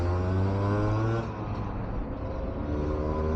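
An old two-stroke motorcycle engine runs close by with a steady, buzzing drone that dips slightly and settles back to an even idle.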